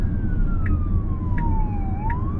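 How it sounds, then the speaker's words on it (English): A fire truck siren wails in the traffic lane opposite, heard from inside a Tesla Cybertruck, a steady sweeping tone rising and falling over road noise with short bursts of a higher warning sound. "it's not an ambulance, it's a fire truck"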